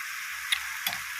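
Vegetable spring roll filling sizzles and bubbles in a hot pan with a steady hiss, broken by two small sharp pops.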